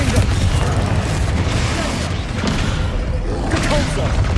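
Explosive spell blasts from combat in the video game Hogwarts Legacy, with booming thuds and bursts layered over a constant loud rumble of battle, alongside voices calling out.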